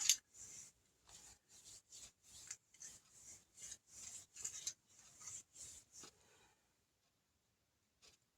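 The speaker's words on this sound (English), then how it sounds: "So I'm just going to rub it on the candle." Oil being rubbed by hand onto a wax candle, about a dozen soft, faint, rhythmic rubbing strokes close by, then stopping.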